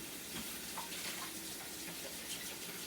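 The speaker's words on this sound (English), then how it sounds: "gotta wash my beater here" A mixer beater is rinsed under a running kitchen tap, giving a steady, fairly faint hiss of flowing water with small splashes throughout.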